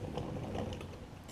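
A ratchet wrench loosening 10 mm throttle plate bolts on a Briggs V-Twin carburetor of a Craftsman DLT riding mower, a short run of quick, soft clicking close by.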